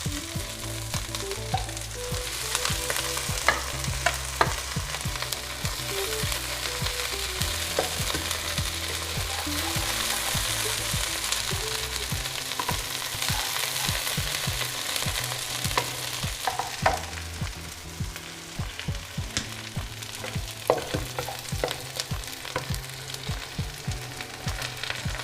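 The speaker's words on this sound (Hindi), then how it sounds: "लहसुन डाल देंगे, साथ ही डाल देंगे हरी मिर्चें। इतना पकाएंगे कि लहसुन हल्के से सौते हो जाएं।" Garlic and green chillies sautéing in a pan for chilli chicken, a loud, steady sizzle and frying crackle with repeated clinks and scrapes of a stirring spoon against the pan, heard up close with no talking.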